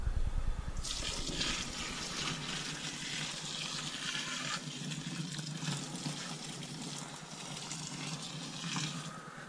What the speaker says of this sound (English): So that will now drain into my other jug